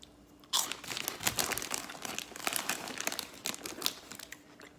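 Crunchy Sunshine Snacks original cheese-flavoured Cheesies are bitten and chewed up close, a quick run of sharp crisp crunches and crinkles in an otherwise quiet room with no voices.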